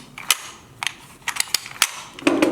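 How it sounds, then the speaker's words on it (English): Spring-loaded lever on a Petzl ID descender snapping back into its locked position: a series of sharp, close metallic clicks and snaps at irregular intervals, with no voices. "the lever is spring loaded, so it's always going to come back to this locked position"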